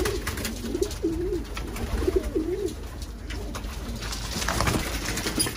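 Several pigeons coo nearby in soft repeated throaty phrases over a steady background hum, with faint rustling and no talk.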